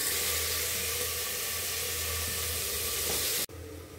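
Potatoes and onions fry in a pan with a loud, steady hissing sizzle that drops sharply for a moment near the end, then carries on a little quieter.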